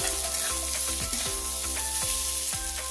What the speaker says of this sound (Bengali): চালটাও খুব ভালো করে ঘিয়ের সাথে ভেজে নেবো